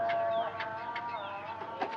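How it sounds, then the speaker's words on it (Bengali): Domestic chickens cluck and call in short, repeated bursts close by, steady across the two seconds with no talking. "হ্যাঁ মুরগিগুলো সব ঠিক আছে তো?"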